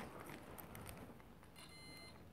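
A multimeter continuity tester beeps while checking the kill switch wiring of a Yamaha YB100 motorcycle: a steady electronic tone rises out of a constant background hiss in the last second, held briefly and close.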